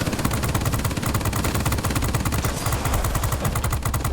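Turret guns on a BV P.203 in World of Warplanes fire in a steady, rapid stream, a loud continuous chatter of shots over the droning engines.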